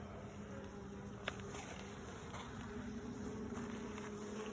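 Carniolan honeybees buzz around a hive, a faint steady drone of many bees close by that continues unbroken, with one soft tap partway through.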